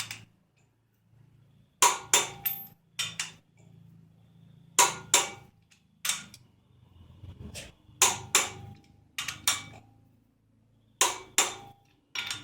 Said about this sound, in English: Pull them straight up to 75 foot-pounds.